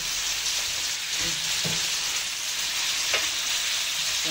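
Shrimp and mussels fry together in butter in a pan, a steady close sizzle with a few soft stirring knocks and scrapes, no talk.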